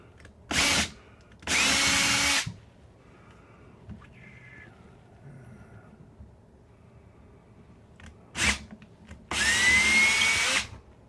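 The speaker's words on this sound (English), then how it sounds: "Drilling out the holes that I marked." A Ridgid power drill bores holes into wood for shelf wall anchors, four loud, close bursts of whirring drilling separated by quiet pauses.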